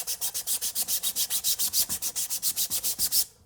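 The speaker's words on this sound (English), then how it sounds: "I'm just going to sand this surface a little bit" Sandpaper worked in quick, even back-and-forth strokes over a flat surface of a 3D printed prop gun, about two dozen rhythmic scratchy rubs, close and clear, stopping abruptly at the end with no voices.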